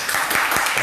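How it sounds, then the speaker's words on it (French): Short burst of loud, dense audience applause for a singer introduced on a televised star show, continuous clapping filling the whole moment. "On applaudit très fort."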